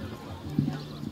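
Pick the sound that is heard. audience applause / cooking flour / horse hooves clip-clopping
horse hooves clip-clopping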